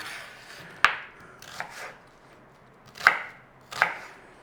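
A knife cuts an onion into cubes on a board in four distinct chops, sharp and close, separated by quiet gaps, with no talking.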